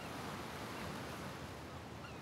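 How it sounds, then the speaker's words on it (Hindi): Ocean waves break on a shore in a steady, continuous wash of surf with a faint breeze, no voices and no pauses. "अपनी आंखें बंद कीजिए, सुनिए ये लहरें आपसे क्या पूछ रही हैं।"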